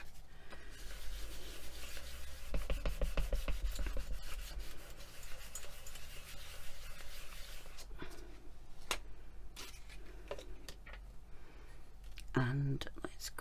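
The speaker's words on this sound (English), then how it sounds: "Let's pop that down and give it a burnish." Soft rubbing and scraping from burnishing a mokume-style pendant decorated with mica powders, a quiet close-up friction sound with a brief run of rapid strokes and a few light taps.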